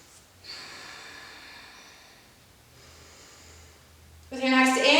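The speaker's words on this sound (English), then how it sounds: "Take 2 breaths." Slow, deep breaths drawn during a yoga flow between standing poses: two soft, faint breathing passes, then a sudden louder burst at the very end.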